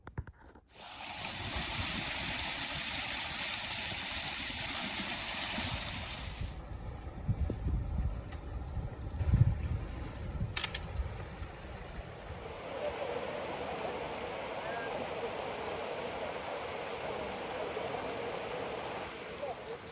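River water rushes steadily over rocks at a trail crossing, a broad continuous wash of noise that persists throughout with a few brief knocks and shifts midway.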